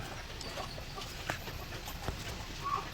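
White leghorn chickens with trimmed combs cluck softly on a farm, a few faint scattered calls over low background noise, with no one speaking.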